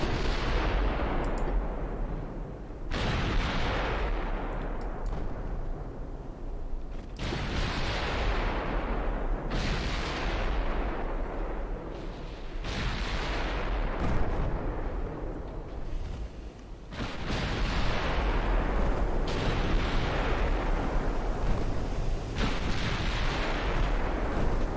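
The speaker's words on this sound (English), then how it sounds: "Get that aft turret firing." Heavy naval turret guns boom again and again in the warship game Ultimate Admiral Dreadnoughts, in a British 1900 campaign. Each shot lands as a loud, deep blast. The blasts come every few seconds over a constant low rumble.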